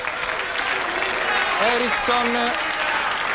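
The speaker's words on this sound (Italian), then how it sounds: "l'applauso per Luisa Corna è inevitabile" Studio audience applause for Luisa Corna on an Italian football TV show, dense sustained clapping that fills the whole stretch while someone speaks briefly over it.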